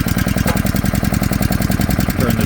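Small engine on a 330 gallon single axle trailer, pull-started with the choke on and running: a loud, close, rapid chugging and knocking idle in a steady fast rhythm, alone with no voices.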